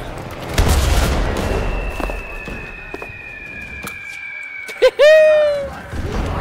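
Gunfire and a grenade blast in the World War II shooter Enlisted, set in Stalingrad: scattered shots and a long whistling streak give way to a loud sharp burst near the end, with someone talking over the battle.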